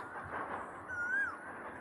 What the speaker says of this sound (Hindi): आपको पीछे कोयल की आवाज़ भी सुनाई दे रही होगी।